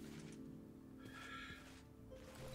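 A horse neighs in TerraFirmaCraft, a modded Minecraft world, a short whinny rising over a low steady background hum, faint and distant.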